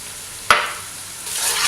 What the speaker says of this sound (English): I've been sauteing for a few minutes